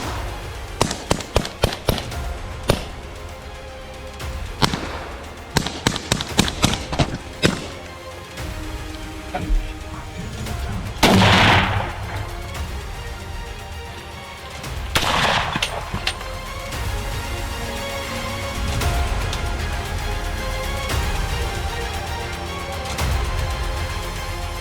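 .308 rifle shots fired while hunting wild boar in Mississippi: a quick series of sharp, loud cracks at the start, followed by scattered single reports and a lingering, rumbling background.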